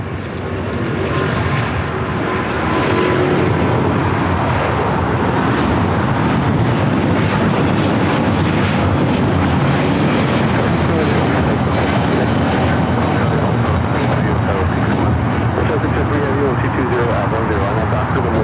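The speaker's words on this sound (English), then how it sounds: "This is ITA Airways 621 taking off to Rome, Italy on the A350-900." ITA Airways Airbus A350-900 on its takeoff roll at LAX, a loud, sustained jet engine roar that swells early and holds steady throughout, with people talking faintly underneath.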